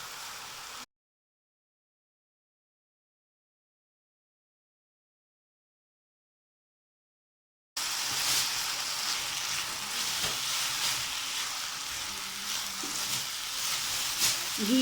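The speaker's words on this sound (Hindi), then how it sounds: "इस वक्त हम इसके अंदर घी डालेंगे।" Carrots frying in ghee for gajar ka halwa give a steady, fairly loud sizzle with light stirring. It runs briefly at the start, cuts to silence for about seven seconds, then returns and continues to the end.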